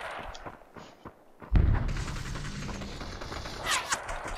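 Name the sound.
gunfire in the video game Population: One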